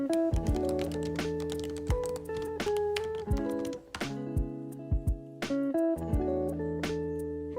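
Steady computer keyboard typing while working in Notion, with rapid, irregular keystrokes clicking over continuous tonal background music.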